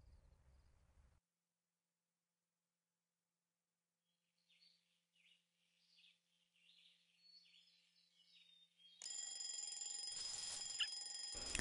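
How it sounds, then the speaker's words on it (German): An alarm clock rings in the video game A Bird Story, a bright sustained ringing that starts abruptly near the end after quiet soft chirping game sounds, with no talking. "Der Wecker klingelt."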